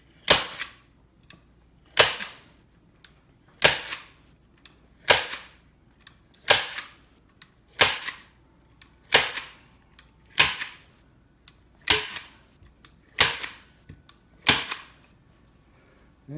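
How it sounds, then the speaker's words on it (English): Staple gun driving staples through a cable strap into a couch: a steady series of about a dozen sharp, close snaps, each roughly a second apart, with quiet between them. "So now I just got to staple all these back."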